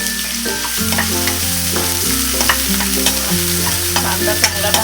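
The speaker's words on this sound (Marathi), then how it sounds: "तेल गरम झाले की कांदा टाकूया आपण।" Onion frying in about one and a half spoons of hot oil for homestyle keema, a steady broadband sizzle with spoon scrapes and stirring clatter throughout, close and loud, no talking.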